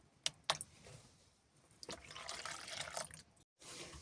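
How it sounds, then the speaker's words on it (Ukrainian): Warm water and milk are poured into a dough mixture in a bowl, heard as a quiet, close splashing trickle after a couple of light knocks, faint with no talking. "Водичка і молочко у вас повинно бути таке теплесеньке виливаємо"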